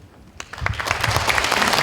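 An audience at a lawmaker's report meeting breaks into applause that builds quickly from quiet into steady, dense clapping.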